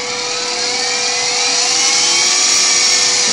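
Small motors on an Arduino Nano-controlled motorized cart with an H-bridge driver whine loudly and continuously up close, a steady high-pitched mechanical hum that rises slightly in loudness.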